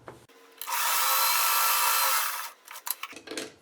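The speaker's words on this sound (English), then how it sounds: "just going to sew right from here down to the bottom piece" A sewing machine stitches a strip onto a stitch-and-flip quilt block in one close, continuous whirring run of about two seconds, bracketed by quiet handling sounds.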